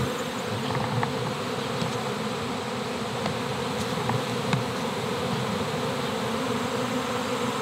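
A dense, continuous buzzing of an actively swarming honeybee cluster fills the air, steady and loud, with occasional individual bees passing close.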